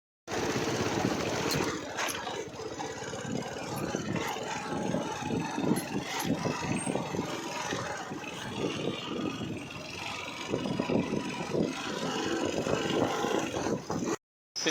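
A motorbike engine running with a rough, chugging putter that stays steady and close for the whole stretch, then cuts off abruptly near the end.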